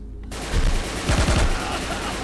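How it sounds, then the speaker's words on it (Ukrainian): Gunfire in the video game Heat Guardian, a loud, sharp burst of rapid automatic shots followed by a second close volley over a constant dense background of game noise. "Хтось стріляє."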